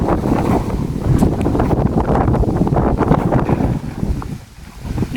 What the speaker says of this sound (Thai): ลมแห้งจัง